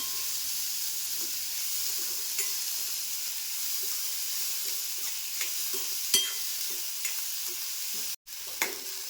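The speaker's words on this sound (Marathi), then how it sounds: "कांदा मस्त असा परतून घ्यायचा मऊ करून" Onion sautéing in a pan until soft, a steady close hiss of frying with occasional soft spatula scrapes and taps, one sharper knock near the end and a brief dropout.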